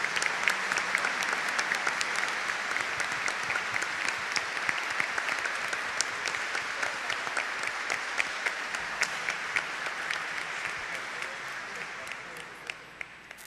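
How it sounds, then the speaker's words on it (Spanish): A church congregation applauding during Mass: sustained clapping from many people filling the space, steady and fairly close, gradually thinning toward the end. "Vamos a darles un aplauso en el día de su fiesta."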